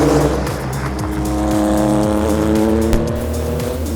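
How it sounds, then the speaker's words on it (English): An Acura race car with an SUV-derived engine drives hard on a track, the engine loud and close with repeated rising revs and quick gear-change dips, plus faint tire noise. "Not bad for an SUV motor, huh?"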